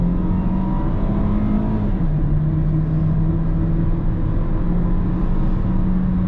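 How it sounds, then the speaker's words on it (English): A 2018 Hyundai Kona SE AWD engine revs steadily toward red line under load, a loud continuous drone whose pitch climbs and then drops slightly as the transmission shifts, with no talking over it. "The transmission will literally take this thing to red line, let it rev out before it shifts"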